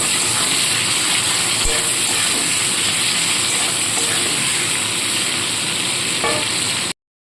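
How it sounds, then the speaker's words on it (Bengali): Chopped onion frying lightly in a pan for a cauliflower chicken curry, giving a steady, close sizzle that holds evenly throughout with a faint clink or two. "পেঁয়াজটা হালকাভাবে ভেজে নেব"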